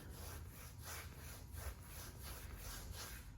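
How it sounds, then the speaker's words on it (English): A hand rubs back and forth over contaminated car paint on a Mitsubishi Evo, a faint, gritty sandpaper-like scraping in rhythmic strokes about three per second, close and quiet with no voices. "Like when I rub my hand around everywhere,"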